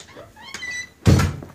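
A door into a farm workshop used for small-engine work swings open with a brief creak, then shuts with a loud, close thunk.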